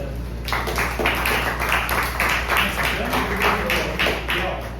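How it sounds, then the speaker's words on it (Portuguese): Audience clapping at a sustainability lecture, a steady patter of many hands lasting several seconds in a room, fairly close and even in loudness. "uma salva de palmas para ele"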